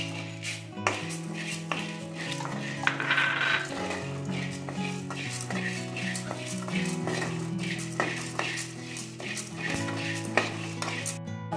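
Chana dal and coriander seeds dry roasting in a pan for pulihora spice powder, scraping stirs and repeated metallic taps of a spoon on the pan over a soft sizzling rattle, with a steady hum underneath.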